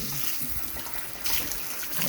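Water washing and draining across a sloped pig pen floor, a steady broadband splashing rush that swells louder near the end, with no talk over it.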